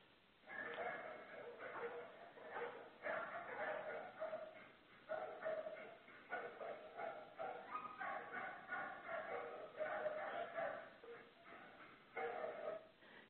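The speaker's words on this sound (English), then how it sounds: "this is a video of a dog who is showing what we call stereotypic behavior" Shelter dog showing stereotypic behavior, giving repeated barks and yips in bursts of rapid calls with brief pauses, fairly close in a reverberant space.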